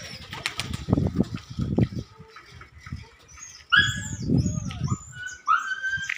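A pigeon beats its wings in several bursts of flapping, close to the microphone, with bird calls and a dog's whimpers and barks mixed in.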